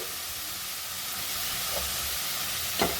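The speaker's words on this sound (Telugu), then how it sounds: "ఉల్లిపాయలు త్వరగా వేగాలంటే ఉప్పు వేసుకోవాలి." Onions frying with salt in a pan, a dense continuous hiss and sizzle filling the whole stretch, close and even, with a faint tap near the end and no voices.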